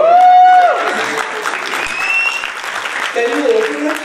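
An audience applauds at a Wendell Rodricks fashion show, a steady, loud wash of clapping that carries on for several seconds while a voice speaks over it.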